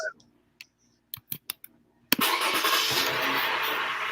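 A car engine cranking and starting after a few scattered clicks and knocks, then catching into a steady, fairly loud running rumble that continues to the end.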